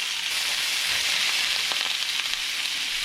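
Chayote with skin on and beef stir-fry in a hot pan, a loud, dense, continuous sizzle with faint stirring scrapes, close and without voices.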